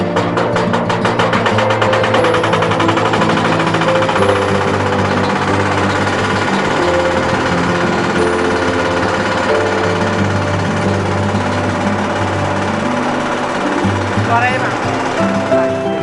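A fertilizer granule shredding machine runs steadily, a loud, dense mechanical clatter and hum with a constant motor drone and rapid rattling throughout, without pause.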